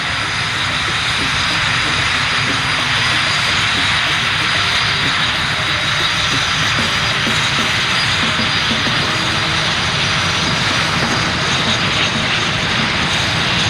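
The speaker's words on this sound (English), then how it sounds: "Royal Canadian Air Force Harvard 2s coming up." A Royal Canadian Air Force Harvard II propeller trainer flies at an airshow in London, its engine a steady, broad, loud drone that holds unbroken for the whole stretch with no talk.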